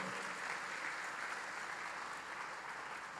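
A conference congregation gives a steady wash of applause to the Lord, dense and unbroken but fairly quiet, heard from a distance throughout.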